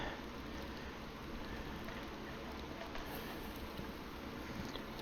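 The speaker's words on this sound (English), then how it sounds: "We're almost to the end of the rain here" Steady in-game rain falls in Fishing Planet at Saint Croix Lake, a dense, even hiss of drops on water that holds constant throughout with no distinct events.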